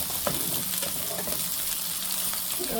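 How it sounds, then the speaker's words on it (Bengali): Chicken balls frying in hot oil, a constant close sizzle with bubbling and a few light stirring taps, no voices. "এই দেখো এইভাবে লাল লাল করে ভেজে নিচ্ছে।"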